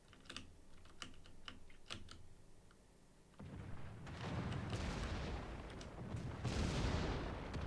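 Naval gunfire in World of Warships: faint keyboard clicks first, then a dense rumbling wash of distant cannon salvos and booms rising in loudness, with a stronger burst near the end.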